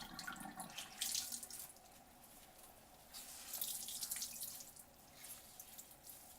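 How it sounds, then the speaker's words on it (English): Cold tap water runs into a sink while a dyed-project shirt is rinsed under it, a steady faint splashing stream with small surges and drips, no voices. "once you've boiled the shirt in the fixative, rinse it off in cold water"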